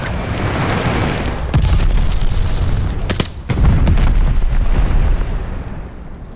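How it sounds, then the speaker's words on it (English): A glide bomb explodes in the World War II shooter Call of Duty: Vanguard with loud, rumbling booms and roaring blast noise, a sharp crack near the three-second mark, then another heavy rolling explosion that slowly fades. "Enemy's got a glide bomb incoming"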